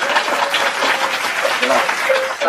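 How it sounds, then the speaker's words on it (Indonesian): An audience applauds at a talk show, brisk clapping that carries steadily through the moment with a crowd murmur and some voices mixed in. "Tepuk tangan."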